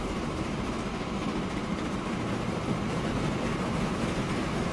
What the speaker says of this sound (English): This is the first train in.